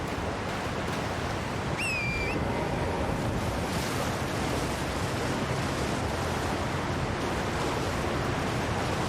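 A steady, loud broadband rush of falling water from a waterfall in Elden Ring: Shadow of the Erdtree, continuous throughout with a brief high whistling call early on and no talk.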